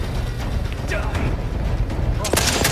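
Gunfire in the video game The Outer Worlds 2 crackles in rapid bursts over a heavy, rumbling game mix, with a sharper volley close by near the end and voices speaking around it.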